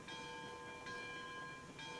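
In the train video game Railroads Online, a locomotive bell rings in a steady rhythm of about two strokes per second, a clear metallic clang over a soft background hum.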